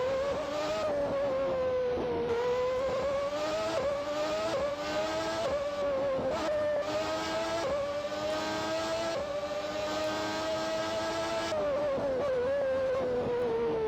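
Race cars in the Grand Prix 4 video game drive on with a steady, loud engine whine, its pitch rising and falling through gear changes and corners, running continuously with no talk.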